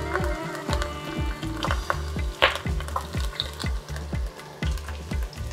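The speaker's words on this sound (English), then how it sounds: "As the ghee has started to smoke, I'm adding ginger, the whole ginger that we had, and the whole garlic cloves." Whole ginger and whole garlic cloves fry in smoking-hot ghee with a steady close sizzle, broken by a regular series of knocking, scraping strokes from stirring, with no talking.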